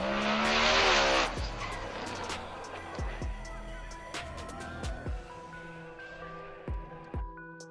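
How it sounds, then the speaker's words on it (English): A Ford Mustang drag car roars at a drag strip, its engine loud at first, then fading into a mix of revs, tire noise and repeated sharp knocks and bangs, with a busy, racing-event feel. "He kept his Mustang from hitting the walls after performing a big wheel stand."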